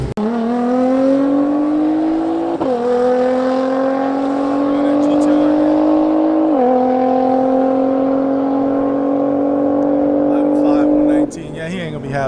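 A Ferrari SF90 and a tuned Porsche 911 Turbo S 992 drag race, a loud sustained engine roar climbing in pitch through two sharp gear shifts before cutting off near the end.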